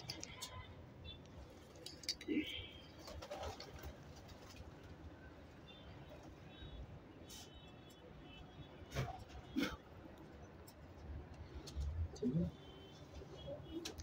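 Pigeons coo softly in a few short bursts near the start, middle and end, over a low background hum with faint voices nearby.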